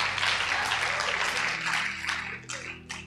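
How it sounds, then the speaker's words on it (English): A church congregation bursts into applause during a sermon. The clapping is loud and dense at first, then thins into a few scattered claps toward the end. "Now, don't clap again"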